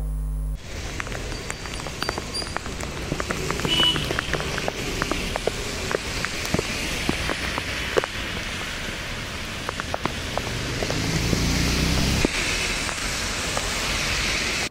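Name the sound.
heavy rain falling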